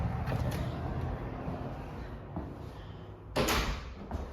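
A small interior door in a newly moved-into home opens with a brief creak and soft knock, heard close over steady room noise and muffled background, followed by a short louder clatter near the end.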